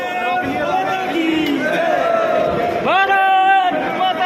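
A large crowd fills a Tiranga Yatra procession with a dense, steady babble of many voices, and shouts and chants rise above it, with one loud rising call near the end.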